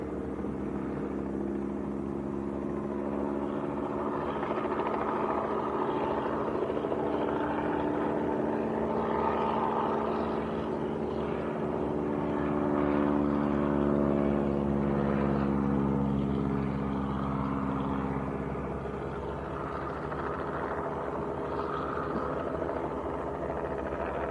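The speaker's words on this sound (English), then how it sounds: "A couple of aircraft just got airborne as well, a Cessna and a Cherokee." Light aircraft, a Cessna and a Cherokee, climbing away after takeoff at Leeds East Airport; a steady propeller-engine drone with harmonic tones that rise and shift as the planes pass, continuous and moderately distant with no talk.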